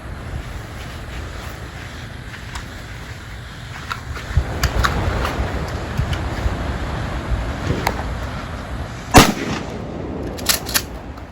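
A custom Mossberg 500 shotgun fires at a target three yards away outdoors: a sharp, loud shot stands out near the nine-second mark over steady wind noise, followed by a couple of smaller cracks and clatters.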